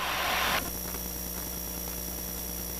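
A small propeller airplane on approach, engine pulled back to about 1500 RPM, drones steadily inside the cabin after a short burst of louder rushing noise at the start.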